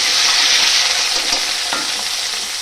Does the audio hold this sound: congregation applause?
no